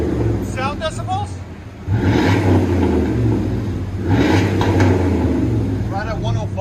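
A 2004 Dodge Dakota 4.7L V8 with dual Flowmaster Super 10 exhaust rumbles deeply at idle and swells in two loud revs, with people talking over the engine at the start and end.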